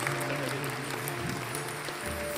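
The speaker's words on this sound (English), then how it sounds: "Let's give the Lord a great hand clap of praise." A church congregation claps hands in praise, dense sustained applause filling the room, with a held organ or keyboard tone sounding underneath.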